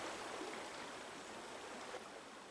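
A small mountain trout stream flows with a steady, even rush of water, constant and moderately distant, with no voices or other sounds.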